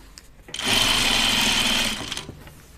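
A sewing machine runs in one steady burst of just over a second, stitching the striped hem of a dress. The motor hum is loud and close, with brief handling noises before and after.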